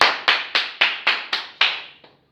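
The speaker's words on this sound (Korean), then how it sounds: "지금 제가 한 게 박수입니다." A single person claps hands seven times in a steady rhythm, close and crisp, with each sharp clap ringing briefly before the next; the final one is softer, followed by silence.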